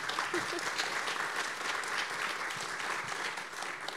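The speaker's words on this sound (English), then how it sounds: "can we have one more round of applause for our panelists, please?" A policy forum audience gives a round of applause for a panel. The clapping is dense and continuous at an even, moderate level, with faint voices underneath.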